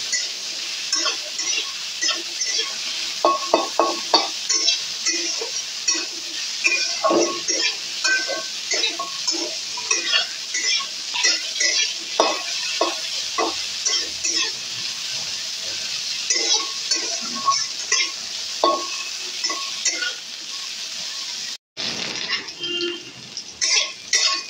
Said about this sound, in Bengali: ভালো করে এটাকে আমি নেড়ে চেড়ে ভেজে নেব